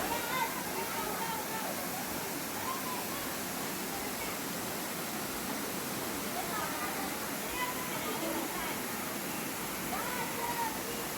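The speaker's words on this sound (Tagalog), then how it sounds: "gaano kahaba yung tubig na dumadaloy." Flowing water runs at a resort in a steady, continuous rushing wash, moderately loud and unbroken throughout, with no clear speech over it.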